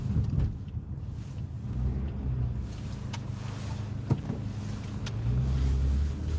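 Road traffic on a cold, windy morning, with a steady low rumble of passing cars and engines and a few brief clicks, filling the whole stretch at moderate distance.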